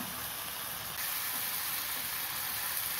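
Food sautés in a pan with a steady, hissing sizzle that holds constant and grows slightly louder partway through, close by and uninterrupted by talk.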